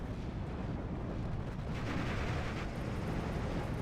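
Off-map artillery strike in the WWII strategy game Steel Division 2, a dense continuous roar of overlapping distant blasts and rumbling impacts with no clear gaps.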